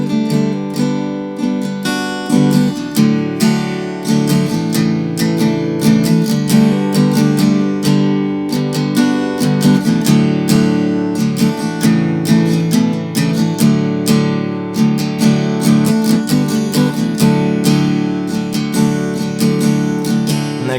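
Acoustic guitar playing the intro of a song, fingerpicked chords ringing close and clear in a steady rhythmic pattern for about twenty seconds, with no voice.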